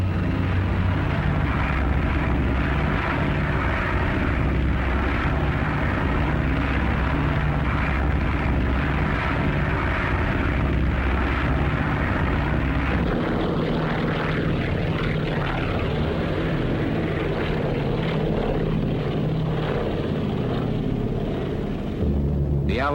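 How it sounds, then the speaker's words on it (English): Propeller airplanes from 1945 fly overhead on a supply-drop mission in the India-Burma jungle, a loud, steady engine drone and rumble that lasts throughout, with no talk over it. "Then they were loaded on planes with parachutes attached."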